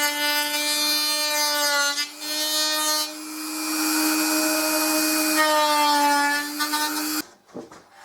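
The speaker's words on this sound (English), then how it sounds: "I've mounted my Dremel onto a piece of acrylic so I can actually see what I'm doing, and I'm hoping that I can just flatten off evenly the tops of these braces." A Dremel rotary tool mounted on an acrylic sheet grinds down the tops of braces, a steady high-pitched whine with shifting tone for about seven seconds that stops abruptly near the end.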